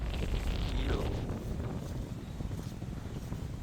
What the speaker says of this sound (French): Ah, vent de nord.